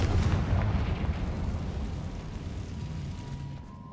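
Spell explosions from Bombarda and Confringo in the Hogwarts Legacy video game: a loud, deep rumbling blast at the start that rolls on and slowly fades over several seconds, with no talking.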